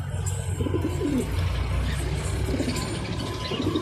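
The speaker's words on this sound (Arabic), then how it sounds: "ده جوز حمام جرم." A pair of pigeons coo close by, soft low throaty calls repeating over a busy background murmur.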